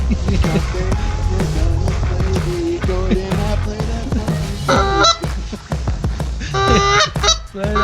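Goose call blown repeatedly during a duck and goose hunting outing, loud honking notes in quick bursts, with louder clustered honks near the end, over a busy background.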